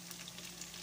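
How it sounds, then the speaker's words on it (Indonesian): Chicken frying in a pan of hot oil before being coated in garlic chili sambal, a steady close sizzle with faint crackles and a low background hum, no talking. "Ini saya goreng ayam, mau saya sambelin rasa bawang putih"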